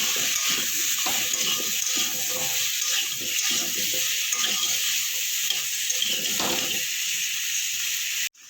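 Potato pieces frying in oil in a karai with salt and turmeric, a steady close hiss and crackle running unbroken throughout, with faint stirring scrapes beneath.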